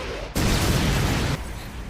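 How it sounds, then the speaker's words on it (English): A grenade launcher round explodes in a city alleyway, a sudden loud, close blast that roars for about a second and then cuts off sharply. "she just shot a grenade launcher in the middle of an alleyway in the city"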